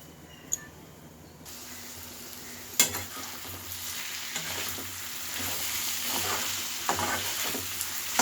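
Chopped ivy gourd stir-fries in a pan with a continuous sizzle, the heat turned up and down, while occasional metal clinks and scrapes from a spatula break through the frying.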